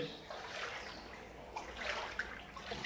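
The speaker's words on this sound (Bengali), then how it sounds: "এটা আমার নাতিন পানির মধ্যে খেলা করতে নামছে" A child splashing and playing in stagnant floodwater, heard as faint, scattered small splashes and trickling water at a distance, with a few soft noises mixed in.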